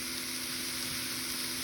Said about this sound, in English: I got the cauliflower rice cooking up in a small frying pan